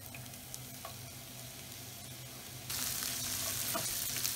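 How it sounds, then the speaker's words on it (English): Chopped onion frying slowly in about three tablespoons of oil in a pan over medium heat, a steady close sizzle that grows noticeably louder and brighter partway through, with faint stirring clinks. "we just want to fry our onions very slowly"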